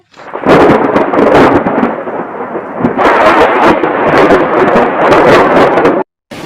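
Heavy rain with loud rumbling thunder, a dense crackling roar that swells in two long bursts, briefly dropping to silence near the end before resuming.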